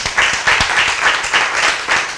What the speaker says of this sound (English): Ladies and gentlemen, I'm giving a round of applause.